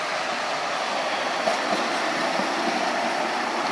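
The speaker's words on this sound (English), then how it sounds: "I did not really know that this tram is passing by" A tram rolls past on a street in Sofia, Bulgaria, a steady, close broadband rumble of wheels on rail with faint clatter throughout, no voices.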